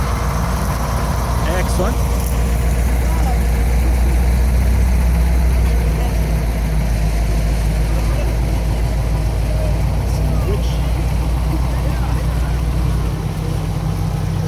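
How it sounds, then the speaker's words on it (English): A fire department water truck rolls through a small-town midsummer carnival parade, its engine idling with a loud, steady low rumble that runs throughout, under crowd noise and a brief spoken word. "Flensburg Fire Department coming into town here with their water truck."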